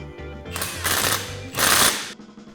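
A power tool tightens the recessed nut on a Polaris RZR portal gear lift in two loud rattling bursts, each about half a second long, with brief pauses between them.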